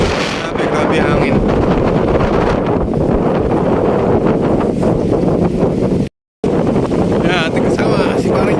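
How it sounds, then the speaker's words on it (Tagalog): Strong wind along the Corniche in Doha buffets the microphone with a loud, continuous roar and rumble, broken by a brief dropout, while a rider travels through it. "On the way home, napakalakas ng hangin."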